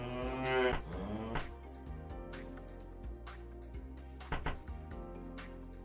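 Cattle low in the management game Capitalism Plus: one clear, full moo opens, followed by quieter farm-animal grunts and soft clatter against a faint hum.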